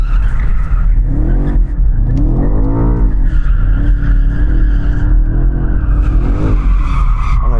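BMW M5 in rear-wheel-drive mode spinning its tyres, a loud continuous tyre squeal and skid over a roaring, revving engine that rises and falls, with heavy tyre smoke, close and steady throughout.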